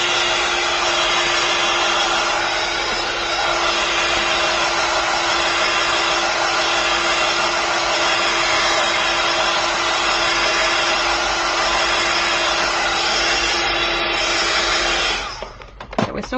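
A hair dryer blows steadily on wet paint in an art journal, a loud continuous whooshing hum with a constant tone that runs unbroken for about fifteen seconds before cutting off.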